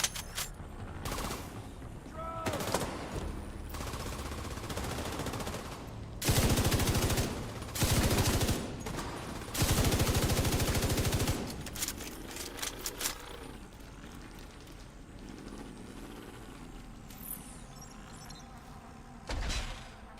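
A weapon firing in the shooter video game The Division 2, sustained rapid gunfire bursts with loud stretches and short breaks, interrupted by mechanical clicks.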